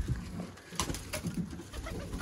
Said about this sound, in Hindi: A+ क्वालिटी में दोस्तों चपड़े कबूतर।